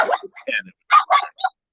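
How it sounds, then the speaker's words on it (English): An anxious dog gives a short run of uneven, yelping barks and whimpers, close and fairly loud, with brief pauses between bursts. "And now we've got the anxious dog here."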